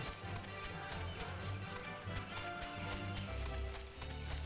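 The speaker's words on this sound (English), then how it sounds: "Wasn't that a pretty horse?" Horse hooves in Final Fantasy 14, a steady clip-clop of a running mount at moderate loudness, layered over continuous game music with no talk.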